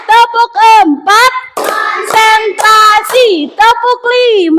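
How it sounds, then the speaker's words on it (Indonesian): Classroom of children doing a counted clapping chant, a teacher calling numbers and the class answering with shouted words and bursts of rhythmic claps, loud and close. "tepuk 1, yes, tepuk 2, oke, tepuk 3, semangat, tepuk 4"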